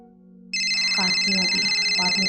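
A phone ringtone starts suddenly and keeps sounding as a steady, bright electronic tone, loud and close, with a voice briefly heard beneath it.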